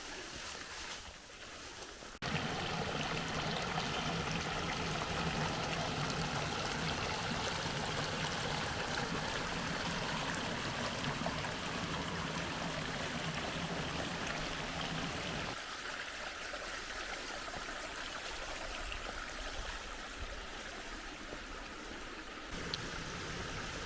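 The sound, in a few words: small creek water flowing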